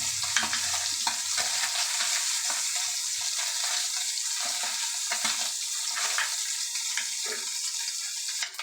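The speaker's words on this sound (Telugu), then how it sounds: "చిన్న చిన్న పీసెస్గా కట్ చేసుకొని ఫ్రై చేసుకోవాలి" Small pieces of mutton brain frying in hot oil, a continuous bright sizzle broken by scraping, clinking taps of a spoon turning them in the pan, close and fairly quiet with no talking.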